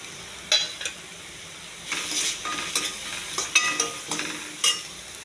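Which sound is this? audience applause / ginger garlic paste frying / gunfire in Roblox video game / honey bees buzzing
ginger garlic paste frying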